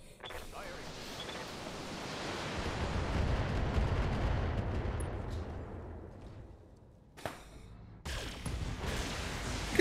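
Missile salvos from BattleTech mechs rumble in a long swelling barrage that fades out, followed after a brief lull by sharp renewed blasts and rumbling impacts.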